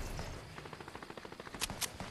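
Rapid bursts of gunfire in a shooter video game, a quick string of sharp shots fairly close, with a couple of louder cracks near the end and no talking.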